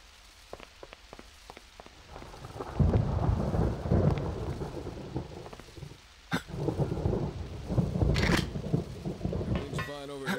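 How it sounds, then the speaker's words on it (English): Heavy rain pours and thunder rumbles in the horror video game Altered Species, with a few sharp cracks early, rolling thunder swelling in waves, and bright crackling bursts near the end. "Look at that, it's really pouring. I heard it's gonna rain until morning."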